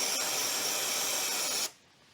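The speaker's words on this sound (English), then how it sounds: "we're just gonna spray the sensor with brake clean and hope for the best" A can of brake cleaner sprays in one continuous, loud hiss onto a sensor on a BMW E36, then cuts off abruptly, leaving quiet room noise.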